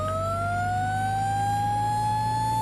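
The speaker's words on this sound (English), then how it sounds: "It also comes equipped with a siren." A fire truck siren in the Minecraft Transport Simulator game wails as a clean, rising electronic tone over a low engine hum, steady and fairly quiet for a few seconds with no talk.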